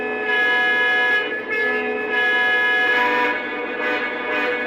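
A long, steady horn blast from a Lionel Premium Legacy model train engine, deep and sustained like a foghorn, sounding close and fairly loud.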